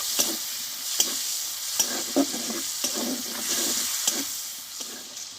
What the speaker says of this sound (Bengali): টমেটোটা একটু ভালো করে কষে নেব